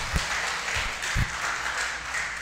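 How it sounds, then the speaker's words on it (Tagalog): Congregation applauding at a church gathering, a fairly loud continuous wash of clapping with a couple of soft thumps, no talk over it. "isang malakas na palakpak para sa ating Panginoon"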